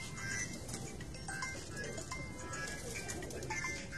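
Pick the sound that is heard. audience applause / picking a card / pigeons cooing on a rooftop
pigeons cooing on a rooftop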